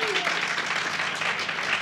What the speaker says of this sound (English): wendolyn Macon-Beck and to Ms. Joanna Floyd, let's get him one more round of applause